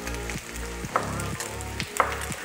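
Sliced potatoes fry crisp in a pan as bratkartoffeln, a steady close sizzle with a low hum and a few soft clinks, no talking over it.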